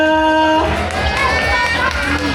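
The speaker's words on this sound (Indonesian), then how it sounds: "Boleh dong kita tepuk tangan semangatnya." Audience at an animal show in a safari park claps and cheers after a duck presentation, a burst of crowd noise rising over a fading tone, with voices and children's shouts mixed in.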